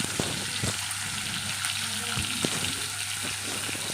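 Fish frying in hot oil, a dense steady sizzle broken by a few spatula taps and crackles as pieces go into the pan, no voices.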